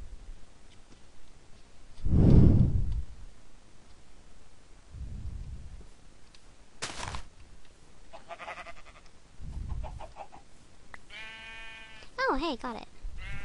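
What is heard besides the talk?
sheep bleating in the video game Minecraft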